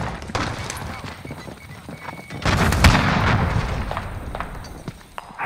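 A vehicle is destroyed in a battle video game: scattered clatter and thuds lead into a loud, sudden explosion partway through, followed by a lingering rumbling roar and further small impacts.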